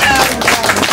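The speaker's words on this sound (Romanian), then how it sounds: "iarăși să-l aplaudăm!" Audience applause for a father named Igor, honored as best grandfather at a surprise village event in Talmaza, brief dense clapping with a loud crowd wash filling the whole moment.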